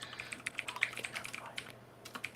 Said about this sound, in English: I hear some typing. I'm typing that in.